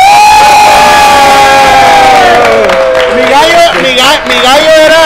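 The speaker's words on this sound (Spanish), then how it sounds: "reto cumplido, Omar! ¡Un aplauso, raza!" A crowd cheers and shouts loudly after someone completes a spicy chicken wings eating challenge, with excited voices rising and overlapping throughout.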